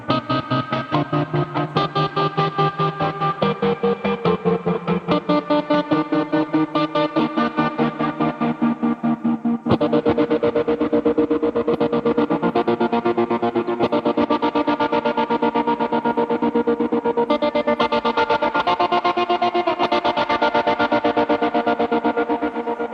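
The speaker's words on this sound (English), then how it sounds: "If you want a choppy trem, change this out to the square wave." An electric guitar run through a tremolo pedal set to a square wave, sustained chords chopped into rapid, hard-edged on-off pulses in a steady rhythm, loud and close with no talking.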